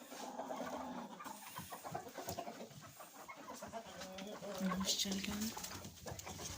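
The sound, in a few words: hens clucking in the coop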